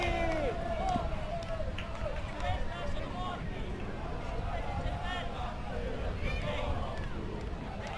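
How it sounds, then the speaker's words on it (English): A dense, continuous roar of spectators at a junior beach volleyball final, supporters of the 45 Giri team cheering and shouting over steady crowd babble and whistling, loud and unbroken throughout. "Lots of cheering in the crowds for the 45 Giri fans."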